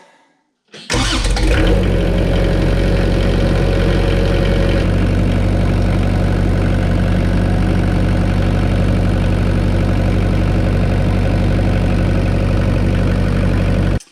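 A 1990 New Holland skid steer engine cranks and catches, then settles into a steady, loud idle with a deep low rumble that runs on unchanged for many seconds, with no talking.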